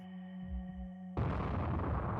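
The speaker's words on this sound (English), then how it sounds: "this time I heard an explosion coming from the track outside." A sudden explosion erupts in the Chaos;Child visual novel game, a loud broadband blast cutting in after low droning tones and sustaining a rumbling, crackling roar to the end.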